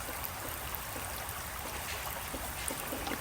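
Water is poured onto a lithops succulent, a quiet steady trickling and splashing that runs without pause.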